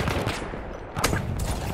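Rapid bursts of enemy gunfire in Battlefield 1 crack out close and loud, one volley, a brief lull, then another sharp burst of shots.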